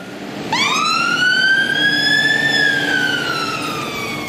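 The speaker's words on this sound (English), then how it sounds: "The fire engine." A fire engine siren starts abruptly and rises, then holds a long, loud, rising tone that levels off and begins to fall, alone and close.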